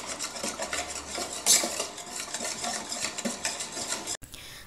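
A spoon stirs and scrapes rava dosa batter around a bowl in steady, close strokes, with soft clinks against the sides, then stops abruptly.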